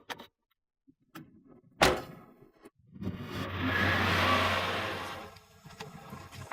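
A car engine roars up and accelerates hard in pursuit, building to a sustained loud rush after a sharp thud, with no talk over it.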